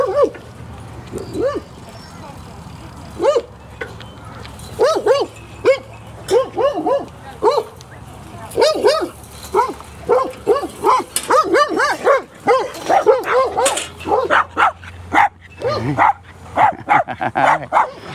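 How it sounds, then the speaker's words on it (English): Several dogs bark and yip excitedly around a ramp where they run and leap into water, with loud bursts of repeated barking and a few whimpers. "looks like we got dogs running off the ramp,"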